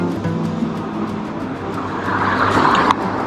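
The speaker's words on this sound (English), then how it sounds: "As you see a big city bus go by." A big city bus rolls past on busy Broadway in Long Beach, a close, loud engine rumble with tire hiss swelling toward the end over steady traffic noise.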